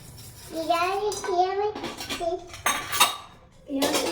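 A child mixes omelette batter in a bowl, a metal spoon clinking and scraping against the sides in quick bursts, while someone talks over it in a sing-song voice.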